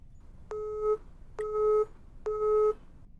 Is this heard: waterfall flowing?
no